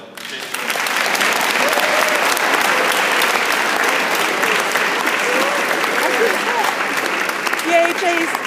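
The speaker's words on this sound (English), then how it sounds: "Please give an applause to Chase." Sustained applause from a sports banquet audience fills the room at steady volume, with scattered voices and a few cheers rising through the clapping.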